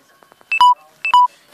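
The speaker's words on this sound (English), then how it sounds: "Oh, that's my phone dying." Smartphone warning tones as its battery dies, two identical short double beeps, a high blip then a longer lower tone, sharp and close in an otherwise quiet room after a few faint clicks.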